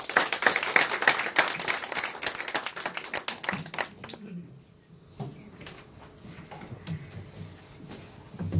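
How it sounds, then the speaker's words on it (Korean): Audience applause welcoming a lecturer at a Korean studies lecture, loud sustained clapping that cuts off after about four seconds, followed by quieter room noise and scattered shuffling. "뜨거운 박수로 환영해 주시기 바랍니다."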